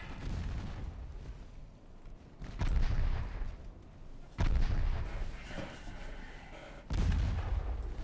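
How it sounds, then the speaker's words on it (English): Warship guns fire during a naval battle in the video game Ultimate Admiral Dreadnoughts. Three heavy booms land a couple of seconds apart over a continuous rumbling background of battle noise. "All guns, focus fire."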